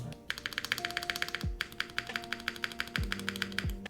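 Close, quick typing on a mechanical keyboard with tactile switches, a dense run of clacky keystrokes with a few deeper thocks from larger keys mixed in.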